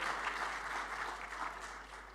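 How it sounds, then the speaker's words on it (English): An audience at an international conference on social impact assessment applauds, a soft, steady patter of many hands clapping heard faintly from a distance, with no talk over it. "Mrs. Embun Sari, please give a big round of applause to our dirigent here"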